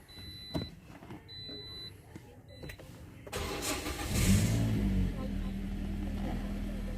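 A 2017 Toyota Grande with a manual gearbox starts with a push-button, cranking briefly before catching into a steady, close idle, with a voice speaking before the start and faint electronic chimes.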